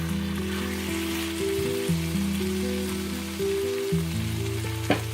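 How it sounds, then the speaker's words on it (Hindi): Chicken pieces frying in oil in a pan, a steady close sizzle with soft stirring scrapes throughout, no talking. "चिकन को इस वक्त तक भूनेंगे जब तक ऑयल सेपरेट नहीं हो जाता"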